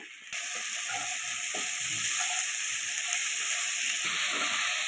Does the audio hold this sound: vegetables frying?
yes